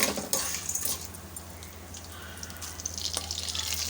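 Sundakkai vathal and curry leaves fry in hot oil in a single pot, giving a steady soft sizzle and crackle with a few brighter pops, close and alone without voices.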